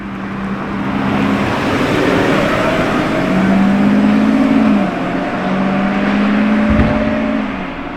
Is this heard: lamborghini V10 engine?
yes